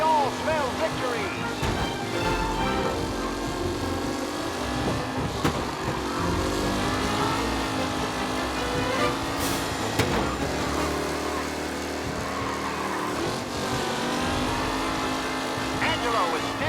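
Race car engines drone and roar throughout a race in Mafia Definitive Edition, with sustained revving and passing surges, under a commentator's voice.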